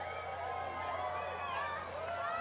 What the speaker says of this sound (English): Crowd's getting excited.